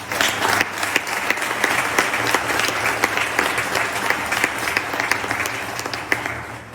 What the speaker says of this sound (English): Would you give all the folks who are doing solos today an extra round of applause?